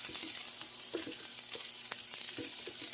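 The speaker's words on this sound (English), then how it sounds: "what we're doing here is just going to soften up these onions a little bit" Onions softening in a pan over gentle heat give a steady broadband sizzle, with a few soft stirring scrapes and taps scattered through it, close and continuous, no voices.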